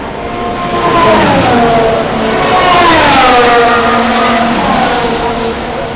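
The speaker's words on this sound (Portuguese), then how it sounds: "aqui hoje em Interlagos para acompanhar os treinos livres e a primeira classificação aqui da Fórmula 1." Formula 1 cars roar past during practice at Interlagos, a loud sustained engine wail with sweeping pitch changes as several cars pass the trackside position.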